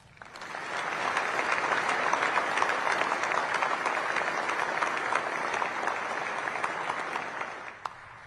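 A crowd at a Space Force change of command ceremony gives a long, steady round of applause that swells quickly, holds dense and even for several seconds, then fades with a final stray clap.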